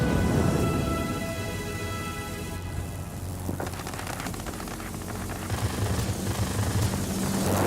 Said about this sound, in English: Be advised, a line of thunderstorms is approaching.